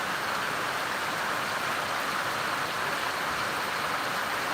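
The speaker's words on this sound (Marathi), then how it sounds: "पाऊस सुरू झालेला आहे" Steady outdoor rainfall makes a dense, even hiss that stays constant throughout, without distinct drops or voices.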